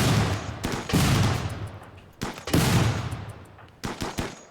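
Rapid bursts of gunfire in the colony strategy game RimWorld, several sharp volleys in quick succession with short gaps between, loud and close.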